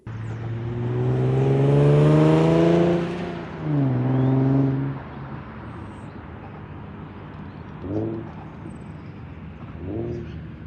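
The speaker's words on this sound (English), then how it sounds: "the car will blip the throttle for you so that you're automatically rev matching" Nissan 370Z engine revving hard, rising and falling in a long sweep, then a second rev, followed by two short automatic rev-matching throttle blips over a low idle, close and loud.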